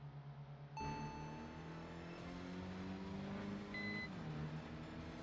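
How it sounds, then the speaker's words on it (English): Car engine in the racing video game Tokyo Xtreme Racer, set in highway tunnels, a steady droning motor hum with rising and falling pitch as it revs, loud and continuous after a brief quieter start, with a couple of short electronic beeps. "Now I can hear the car."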